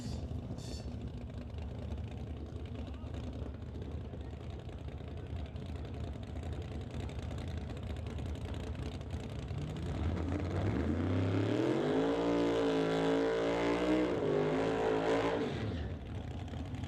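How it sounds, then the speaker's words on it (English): A 1988 Fox-body Mustang drag car at a drag strip rumbles near and loud, then its engine climbs into a long, high-revving burnout that holds for several seconds before cutting back, with a steady crowd and track din beneath. "Burnouts completed for Justin Gibson in the Lordco Auto Parts side of the racetrack"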